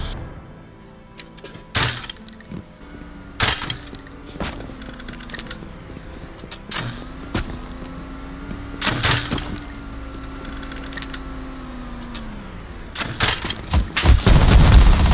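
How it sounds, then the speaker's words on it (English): Gunshots crack out through a window in the survival game Rust, several loud separate blasts spaced a few seconds apart, with a low humming tone and scattered bangs between them. "I'm just trying to take pot shots through the window."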